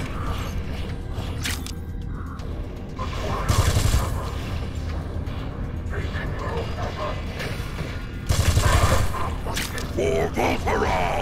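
Weapon fire in the sci-fi shooter video game N.O.V.A. 3, with a few loud, booming bursts standing out over a continuous mechanical, creaking clatter while a voice talks over the action.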